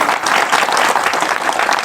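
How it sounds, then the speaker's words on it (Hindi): Loud, dense applause from a crowd gathered at a Mahashivratri celebration in Khurda, steady and continuous throughout with no voices on top. "जोरदार ताली बजाएं।"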